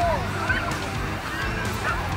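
A flock of geese honks in short scattered calls over a dense outdoor background, with a parrot flying nearby during recall training.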